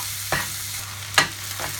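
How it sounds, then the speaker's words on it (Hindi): Vegetables for broccoli manchurian sauté in a pan on high flame, giving a steady background sizzle broken by a few quick scraping stirs, close and moderately loud. "इसको बस थोड़ी देर सौटे करने हैं, 1 से 2 मिनट तक।"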